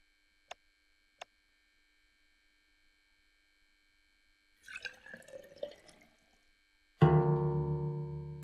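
Two sharp taps, a brief clatter as a jug is handled, then a sink tap in the horror game Cannibal Abduction gushes water loudly and steadily into the jug.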